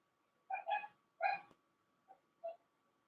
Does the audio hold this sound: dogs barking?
yes